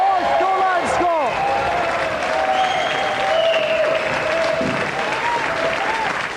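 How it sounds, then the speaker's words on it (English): A studio audience at a television game show applauds, a sustained patter of clapping under a voice speaking and musical tones over it. "Round of applause, ladies and gentlemen, for our 3 planks."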